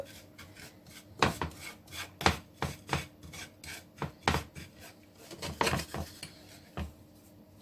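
A utensil stirs and scrapes sugar as it melts and colours in a pan for crêpes Suzette. The irregular rasping strokes sound close and moderately loud, with no voice.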